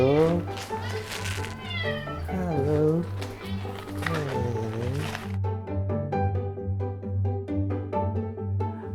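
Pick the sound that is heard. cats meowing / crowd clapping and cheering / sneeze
cats meowing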